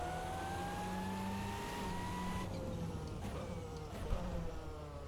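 The VRC Auriel 8 race car's engine in a racing video game winds down in pitch, then blips sharply on a downshift and settles into a steady drone, heard from the cockpit at moderate volume with no speech.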